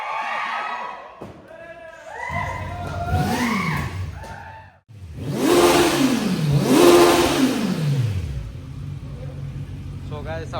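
A superbike engine is revved hard, first in several quick climbing blips and then in two long roaring surges that rise and fall, loud and close, with a brief pause between bursts.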